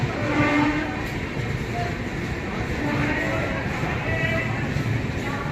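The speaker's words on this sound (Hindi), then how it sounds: "ये आ गई गोमती एक्सप्रेस।" Gomti Express arriving at Tundla Junction: a loud, steady rumble of train wheels and carriages rolling past nearby, with a constant roar throughout and muffled voices mixed in.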